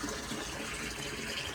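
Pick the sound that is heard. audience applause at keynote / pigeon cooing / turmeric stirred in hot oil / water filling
water filling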